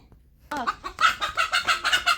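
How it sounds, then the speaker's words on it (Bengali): Hens cluck repeatedly close by in a rural home yard, a quick series of sharp, rhythmic clucks that starts abruptly after a brief quiet moment. "ওইদিকে দেখেন আমার আম্মাকে বিরক্ত করতেছে মুরগিতে"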